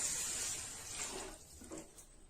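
About 400 ml of water streams and splashes into a pan of sautéed flattened rice (aval) for payasam, loud at first and then tapering into softer trickles and sizzles, with no speech.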